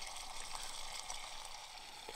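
Chicken and sausage stew simmering in a pot over a pellet-fueled camp stove outdoors in the woods, a faint, steady hissing bubble and sizzle with no talking.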